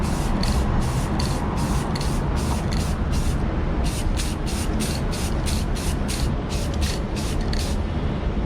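Airbrush or spray can laying a second coat of paint on a Tamiya 1/20 Williams FW11 Honda model: a steady, close, loud hiss throughout, with quick rhythmic pulses in the upper range from repeated short passes.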